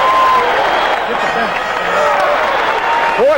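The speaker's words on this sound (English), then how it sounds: "Boy, they're up and cheering in Phoenix." Arena crowd at a 1979 Suns versus 76ers basketball game in Phoenix, cheering and applauding in a dense, steady roar that fills the whole clip, with faint whistles and voices rising through it.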